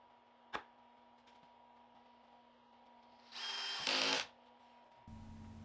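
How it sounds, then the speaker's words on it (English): A power drill drives a Kreg pocket screw into the clamped corners of a wooden face frame on a rolling toolbox. A sharp tap comes first, then a short, loud whirring burst of about a second, with a low hum underneath. "clamped the corners together so I could shoot a Craig screw in to hold the whole thing together"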